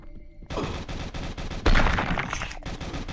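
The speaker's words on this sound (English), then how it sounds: "cute little Tommy gun" A Tommy gun firing in Forgotten Mayhem, a close, loud run of rapid automatic shots with a sharp rhythmic chatter and one heavier blast partway through.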